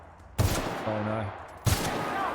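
Gunfire in The Outer Worlds on PC, two sharp, loud shots about a second apart, with a brief burst of mechanical clatter between them and a steady game ambience underneath.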